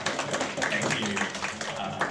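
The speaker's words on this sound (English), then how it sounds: "This is also another chance to applaud." Brief clapping from a small audience at a Python meetup demo, a scattered patter of hands lasting about two seconds.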